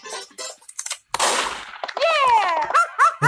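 A single sharp gunshot bursts out in a Mario cartoon animation, loud and brief, followed by exaggerated, animated cartoon voices.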